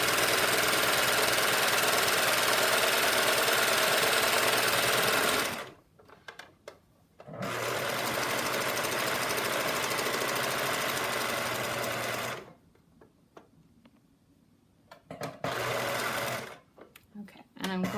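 A serger sewing machine runs fast and steadily, stitching fabric in long, loud buzzing stretches broken by short pauses with faint handling noises.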